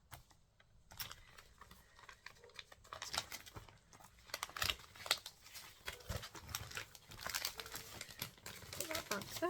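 Plastic packaging crinkles in irregular bursts at close range, crisp rustling rising and falling across the clip with occasional soft speech underneath.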